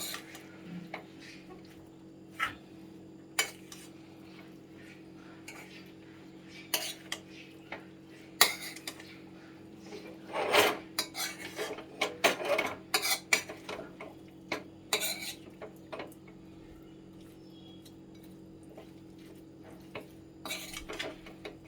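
A spoon stirs kachki fish curry in a metal pan, giving scattered clinks and scrapes that cluster in a busier burst midway, with quiet gaps between and a faint steady hum underneath.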